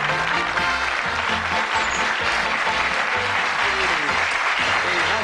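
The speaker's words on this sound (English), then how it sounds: "Give a nice warm round of applause to a Lancastrian, Mr. Billy Leonard." A television game-show studio audience gives steady, warm applause that holds at an even level throughout, with a voice speaking over the clapping.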